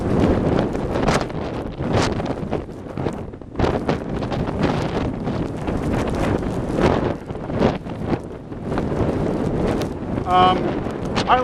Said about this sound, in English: it's not bad because the wind's to our side and to our back